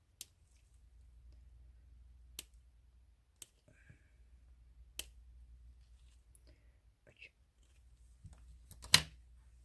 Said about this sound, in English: You can hear the little scissors.